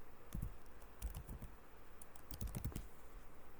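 A computer keyboard is tapped in a few quick bursts while a command line entry is keyed in, the keystrokes close and distinct over a quiet background, with no voices.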